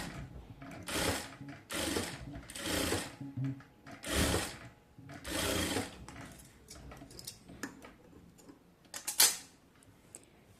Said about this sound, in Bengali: দুইটা পার্ট হচ্ছে সেলাই করে নেব প্রথমে